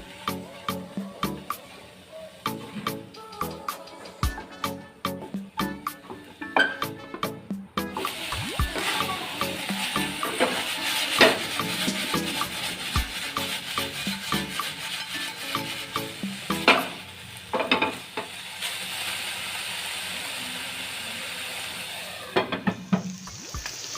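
Pork sizzles in a covered pan over a medium flame, a continuous crackling fry with scattered sharp pops and rattles, close and fairly quiet.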